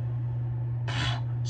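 Montblanc Presence cologne sprayed from its bottle: one short hissing burst of about a third of a second, then the start of a second burst at the end, close and fairly loud over a steady low hum.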